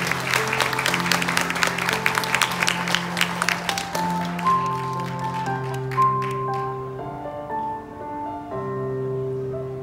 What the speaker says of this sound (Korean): 여러분 박수를 부탁드리겠습니다